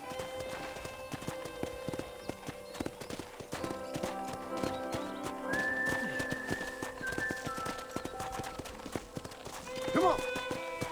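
Steady clip-clop of a horse's hooves walking at an even pace in Red Dead Redemption, with a short whinny near the end over soft game background music.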